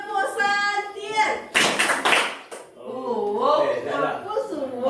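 A group plays the Tepuk Santri clapping game, bursts of rhythmic hand claps and taps alternating with chanted voices, lively and close, with talk and laughter around them.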